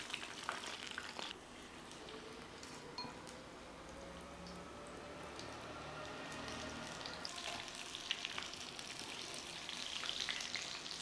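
Prawns for sweet and sour prawns fry in hot oil with a continuous crackling sizzle, steady and close, with occasional clinks of a utensil and no talking.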